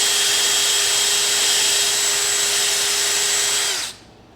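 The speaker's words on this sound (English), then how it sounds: "I just want to chalk it in this drill, because now I just want to clean up the heads." An electric drill spins screws chucked in its jaws against a Scotch-Brite pad to clean up their heads, a steady close whine holding for almost four seconds before winding down to quiet, with no talking.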